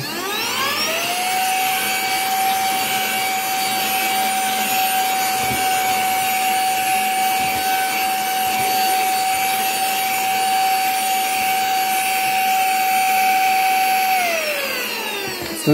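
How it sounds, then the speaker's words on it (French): A small Silvercrest cordless vacuum switches on and sucks up dust, running with a steady, high-pitched motor whine for about thirteen seconds, then winds down. "ça aspire assez bien pour un petit aspirateur"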